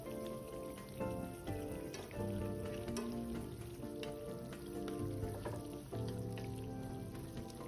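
Three-cup chicken in a pot is stirred after braising, giving a continuous crackling sizzle with repeated clinks and scrapes of the utensil against the pot, close and without speech.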